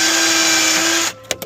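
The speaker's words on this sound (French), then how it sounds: "Je vais devoir percer là aussi." An electric drill bores into a wall in a home with a loud, continuous high whine for about a second, then stops, followed by a few faint knocks and clicks.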